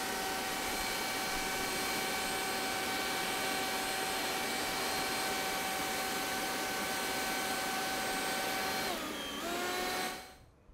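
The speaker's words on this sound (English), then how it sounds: "first in the comparison test of the STIHL BGA 250" A STIHL BGA 250 cordless leaf blower runs with a steady high-pitched electric whine and rushing air for about nine seconds. Its pitch then drops as it spins down to a stop.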